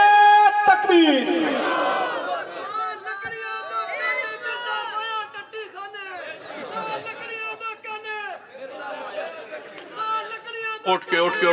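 A large crowd at a religious gathering roars back slogans in unison in answer to the Naara-e-Takbeer call, loud and sustained voices rising and falling in a continuous rhythmic chant.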